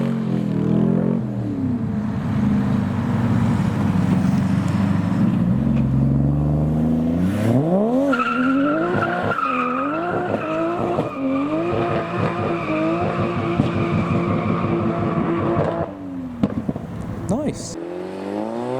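Modified cars leaving a car show, a blue and white Cobra and a white Chaser among them, with a loud engine revving and rising through gear changes nearby, plus tire squeal and a voice talking over it.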